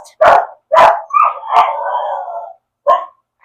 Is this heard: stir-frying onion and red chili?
no